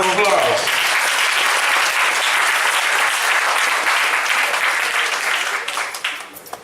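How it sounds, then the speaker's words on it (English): A seated audience gives a man another round of applause at a gathering: dense, steady clapping from many hands, fairly close and loud, holding evenly before thinning out and fading over the last second. "let's give him another round of applause"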